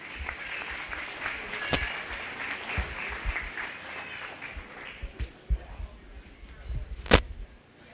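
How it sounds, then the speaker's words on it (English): Scattered clapping from a small crowd at a 4-H and FFA cattle show, honoring a pair of steers; the claps come thin and uneven, with a few sharp, louder slaps. "Let's give that pair of steers a nice round of applause."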